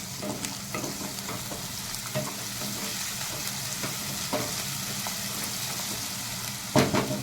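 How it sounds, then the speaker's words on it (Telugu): Half a spoonful of ginger garlic paste fries in a pan, giving a steady close sizzle punctuated by spatula scrapes and stirring taps, ending with a louder clatter near the close, with no talking. "ఇది కూడా మంచిగా పచ్చివాసన అయ్యేదాకా ఫ్రై చేసుకున్నాం"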